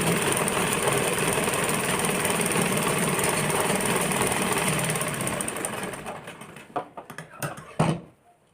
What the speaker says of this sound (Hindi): हम डबल सिलाई मारेंगे